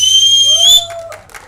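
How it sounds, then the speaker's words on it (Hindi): A piercing whistle blown by a man in the audience at a film promotion event, sustained and loud, then a brief crowd murmur and a short second whistle. "आप उस साइड देखिए और सीटी बजाइए"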